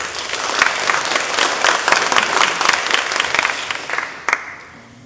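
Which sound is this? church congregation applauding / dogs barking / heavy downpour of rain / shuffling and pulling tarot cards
church congregation applauding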